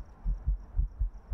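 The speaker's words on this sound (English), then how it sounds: "You hear my heartbeat?" Fast, strong heartbeat from the video game Phasmophobia after the player takes adrenaline: deep paired thumps pulse steadily, close and low, with no talk over them.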